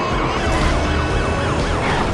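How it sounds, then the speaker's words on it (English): Police sirens wail continuously in the Need for Speed Most Wanted racing game on iPad, several overlapping loud sweeping tones over steady engine and road roar throughout. "For those who love the pleasing sounds of police sirens, here's the game for you."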